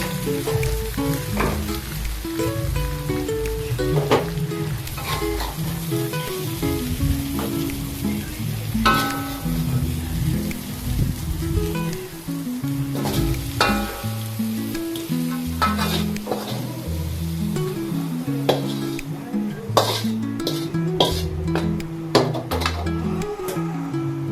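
Eggplant and egg stir-frying in a pan, with steady loud sizzling and repeated scraping strokes of a spatula throughout, sharp clinks now and then, no talking.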